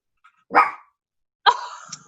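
A dog gives two sharp, separate barks nearby against otherwise quiet surroundings.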